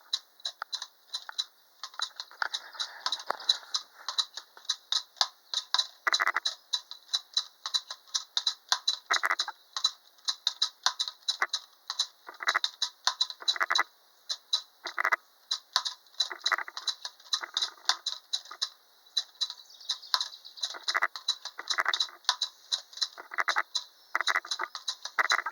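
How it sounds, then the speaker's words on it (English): Three antique wind-up toy acrobats, about 90 years old, running after being wound, giving a continuous quiet clockwork ticking and rattling with irregular bursts of clatter, close and alone. "I'm going to wind them up now and show you if the old guy can do what he's supposed to"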